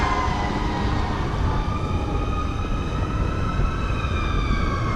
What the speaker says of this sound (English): That's definitely multiple fire engines